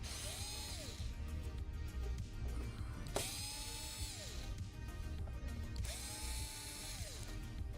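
A power screwdriver or drill backs screws out during a tech repair, three whirring bursts that rise and fall in pitch, close by over a steady background hum, with no talking.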